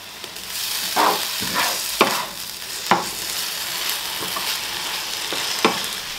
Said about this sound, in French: le confit commence à se faire puisque la sauce réduit petit à petit